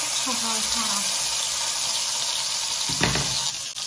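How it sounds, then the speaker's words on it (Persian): A rolled turkey browns in a hot pan with a steady, loud sizzle that runs throughout, and a single knock or shift of the meat comes near the end. "تمام اطراف این قلمون رول شده رو سرخ میکنم"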